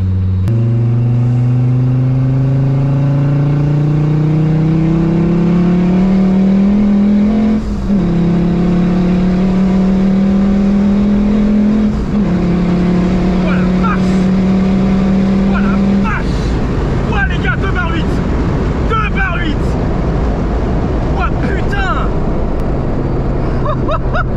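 A turbocharged car engine revs under load, its tone rising steadily in several pulls with brief dips at the gear changes, loud and close, then it drops to a rougher idle with some clicks and rattles.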